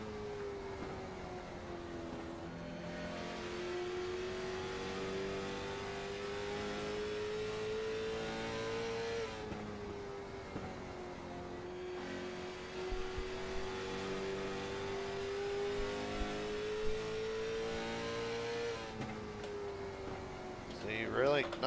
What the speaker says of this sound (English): full throttle down the back straightaway